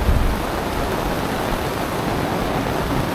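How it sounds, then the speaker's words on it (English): Heavy rain pours down steadily outdoors in the Scenic Rim countryside, a dense, even wash of hiss that holds at the same loudness throughout with no voices. "It's pouring down buckets."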